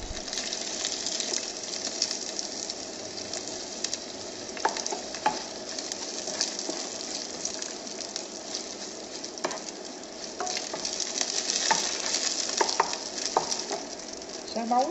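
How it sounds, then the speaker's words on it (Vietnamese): Mushrooms stir-frying with garlic in a pan, a continuous dense sizzle with scattered clicks and scrapes of stirring, close and fairly loud, swelling slightly toward the end. "Tỏi thơm rồi mình để nấm vô mình xào."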